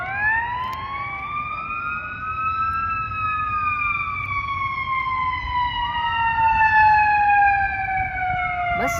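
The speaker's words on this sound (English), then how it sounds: "More fire trucks." Several fire truck sirens wail together on a roadway, overlapping rising and falling tones held steadily loud and close over low traffic rumble, with no talking.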